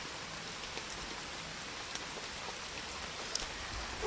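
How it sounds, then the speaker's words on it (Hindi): Steady rain hissing down on farm fields, a soft continuous patter with occasional louder drops, no voices. "बारिश देख लो भाई कितनी बढ़िया हो रही है एकदम।"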